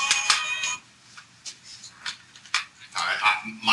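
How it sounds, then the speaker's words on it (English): A mobile phone ringtone goes off during an engineering lecture on elastic buckling of columns, a bright tonal melody in short bursts with pauses between, fairly close and clear, with no talk over it. "my phone went off"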